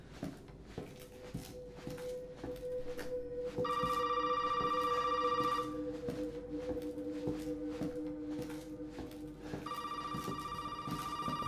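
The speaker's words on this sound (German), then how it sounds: "So, jetzt klingelt das Telefon." An old telephone rings in the Resident Evil 7 demo, two bursts of bright electronic ringing a few seconds apart, over a low, faint ambient game drone with scattered soft clicks.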